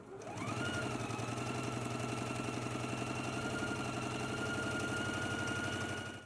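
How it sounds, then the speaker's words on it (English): A sewing machine runs a steady, continuous stitch along a 5/8-inch seam allowance on a McCall's M8601 garment. The even mechanical hum rises briefly at the start, then holds close and constant for several seconds before easing off. "we can go ahead and stitch in a 5/8 of an inch seam allowance"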